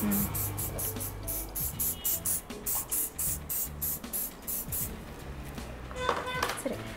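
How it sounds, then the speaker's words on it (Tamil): Rapid bursts of hair spray hiss in a quick rhythmic series during bridal styling, close and loud, with voices talking underneath. "இப்போ வேணும்னா எங்களுக்கு கொஞ்சம் ஸ்ப்ரே பண்ணிக்கொள்ளலாம்"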